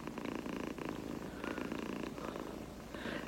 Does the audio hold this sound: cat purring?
yes